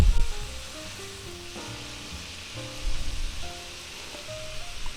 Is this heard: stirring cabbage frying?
yes